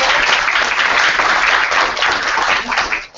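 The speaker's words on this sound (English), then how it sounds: "Let's just give a quick round of applause to Brian Gore for coming tonight." A workshop audience gives a round of applause for a guest, dense and sustained clapping filling the room at close range before tapering off at the end.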